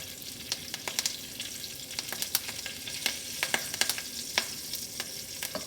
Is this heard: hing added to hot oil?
yes